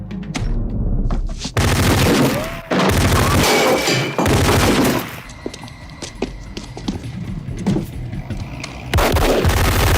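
MAC-10 gunfire in a movie scene, loud bursts of shots with a deep thudding report, several clusters spread across the stretch with brief gaps between them and no talking.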